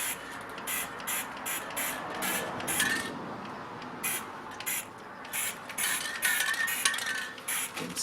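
Sealant spray can hissing onto stamped card scenes, a series of short bursts of varying length separated by pauses, close and fairly loud, with faint clicks between sprays.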